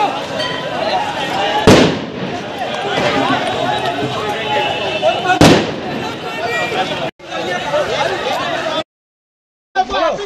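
Two loud firecracker bangs stand out against a noisy crowd at a crossroads in Kanpur, India, with voices talking throughout, then an abrupt cut to silence.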